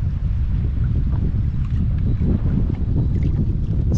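Strong, gusty southeast wind roars across the open salt water of a Florida river during kayak fishing, a loud, continuous rush battering the microphone without pause.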